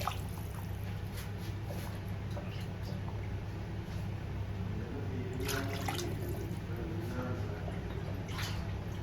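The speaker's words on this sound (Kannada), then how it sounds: "ಈ ಬೌಲಲ್ಲಿ ಈಗ ಮೂರು ಬೌಲ್ ಹಾಕ್ತಿದ್ದೆ ನೀರು" Water poured into a bowl of rice while preparing Chettinad chicken biryani, soft trickling and dripping over a steady low kitchen hum, with a few brighter splashes near the end.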